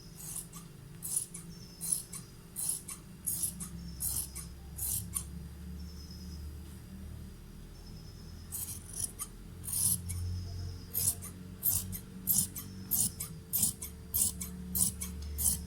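Scissors snip repeatedly through fabric strips along a marked line, a steady run of short, crisp cuts with brief pauses between strokes, close and fairly quiet over a low background hum.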